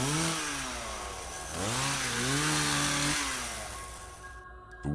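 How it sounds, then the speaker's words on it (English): A chainsaw roars through a quiet forest, its engine revving up and down in rising and falling bursts, loud and close, then dropping away near the end. "The screeching chainsaw ripped through the forest silence."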